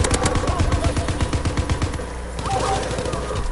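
A flashbang grenade detonates in a PS4 game, a dense burst of rapid cracks and pops through the first two seconds, loud and close, easing into a quieter hiss with game noise and a faint voice afterward.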